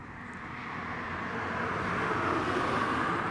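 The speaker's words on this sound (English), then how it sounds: "That's the Aer Lingus off to Belfast City." Aer Lingus airliner taking off from Leeds Bradford Airport for Belfast City, a steady broadband jet roar that swells gradually and holds at a distance, with no voices.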